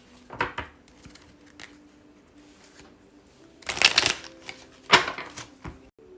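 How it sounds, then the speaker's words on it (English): Tarot cards shuffled by hand during a love reading, giving soft papery riffles and two sharp, louder bursts of cascading cards near the end, close and clear with no talking. "One more shuffle."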